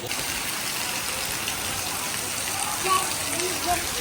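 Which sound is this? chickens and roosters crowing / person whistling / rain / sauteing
rain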